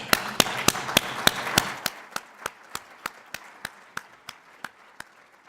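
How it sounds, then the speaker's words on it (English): A conference audience applauds a speaker being introduced: dense clapping at first, then thinning into a few slow, regular, sharp claps that fade toward the end. "And a big clap to Michel Doug."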